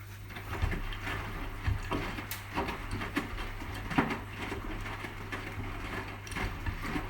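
A Hotpoint HE7L492 washing machine on a Cotton Standard 20 cycle with a load of darks tumbles its drum, giving soft, irregular knocks and thumps over a low, steady running hum.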